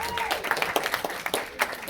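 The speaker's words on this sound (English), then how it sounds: "Give him a round of applause" A university audience at a stage hypnosis comedy show gives a short burst of applause, scattered claps rising and falling under a voice talking over them.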